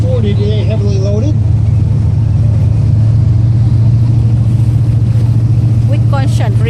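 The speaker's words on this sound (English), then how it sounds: "it's powered by two 496 cubic inch General Motors gasoline V8 engines" A heavily loaded river tour boat powered by twin 496 cubic inch General Motors gasoline V8 engines drones steadily and loudly at low speed, while someone talks over the constant engine hum.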